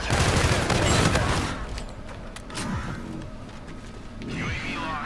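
SMG gunfire in the online shooter Infinite Warfare, a dense burst of rapid shots at the start, then quieter scattered distant fire and whooshing effects over a busy game backdrop.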